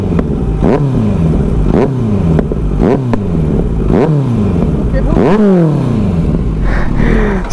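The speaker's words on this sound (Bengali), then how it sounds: "চলো এবার কপি এক্সজস্টের সাউন্ডটা শোনা যাক।" A Kawasaki Z900 motorcycle fitted with an aftermarket copy exhaust revs repeatedly, loud and close, with sharp rising-and-falling engine sweeps about once a second. A voice is faintly mixed in under the engine.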